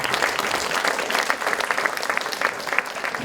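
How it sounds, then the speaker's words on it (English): An audience claps for presenters at the close of a community event on the Smyrna Catastrophe, a dense, lively round of applause with individual claps popping out, filling the whole stretch without talk. "let's a round of applause for our presenters"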